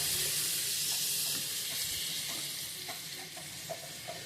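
Tomatoes going into frying mutton paya curry, with a loud continuous hissing sizzle and light scraping of stirring in the pan, no talk.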